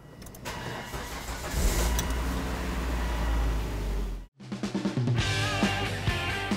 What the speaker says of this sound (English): now let's start up the vehicle